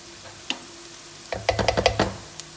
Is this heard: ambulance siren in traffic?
no